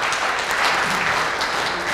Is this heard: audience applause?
yes